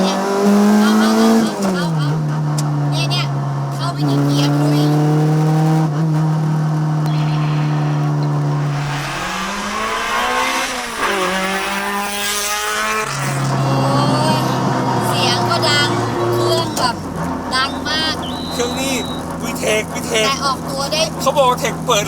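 A Honda DC5 engine revs hard and climbs through gears, its pitch rising and dropping repeatedly, loud and close throughout.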